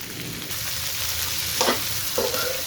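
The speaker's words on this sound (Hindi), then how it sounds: "देखिए, भिंडी हमारी अच्छी तरह फ्राई हो चुकी है और हो रही है साथ साथ।" Okra (bhindi) fries in oil with a continuous close sizzle, broken by a couple of brief stirring scrapes near the end.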